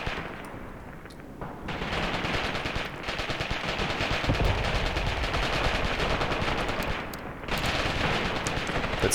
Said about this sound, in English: This is enemy artillery landing, I believe.